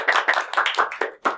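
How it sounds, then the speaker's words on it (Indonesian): A handful of podcast hosts and guests clap briefly at close range, about six quick, crisp claps in a small room. "Tepuk tangan dulu dong."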